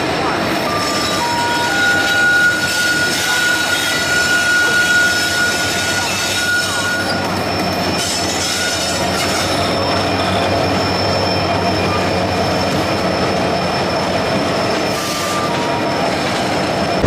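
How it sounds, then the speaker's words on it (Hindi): A WDG 4G diesel locomotive runs past with a continuous loud rumble, rail clatter and a steady engine drone that rises and falls over the whole stretch, with faint wheel squeal and a voice heard briefly at times. "ये है भारत की यंग जनरेशन का डीजल लोकोमोटिव WDG 4G"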